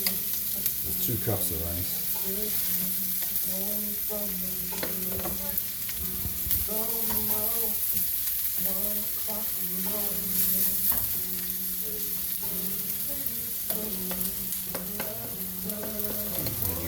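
Two cups of rice frying and stirred in a pan for Thai basil fried rice with chicken, a steady close sizzle broken by repeated scraping spatula strokes, with someone talking briefly over it.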